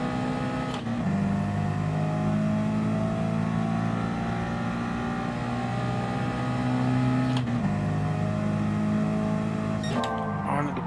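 A race car's engine in Gran Turismo Sport during a 4WD Challenge race drones steadily at high revs, broken by brief shift dips as it brakes and drops gears, with a final burst of higher-pitched engine sound.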